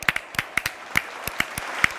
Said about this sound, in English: Round of applause for Olmo.